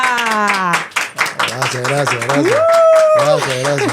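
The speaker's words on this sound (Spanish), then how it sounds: "un fuerte aplauso para recibir al excelentísimo embajador de Reino Unido, Félix Plasencia." Brief clapping greets an ambassador arriving at a diplomatic event, quick hand claps heard close under a voice that speaks over them throughout.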